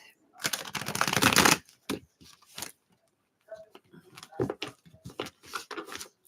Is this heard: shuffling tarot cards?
yes